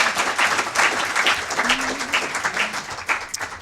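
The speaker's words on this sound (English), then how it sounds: "Give you a round of applause to Julie and Alexis" Audience at a competition briefing session applauds presenters Julie and Alexis after a talk, with a sustained ripple of clapping at moderate loudness and a brief voice audible beneath it.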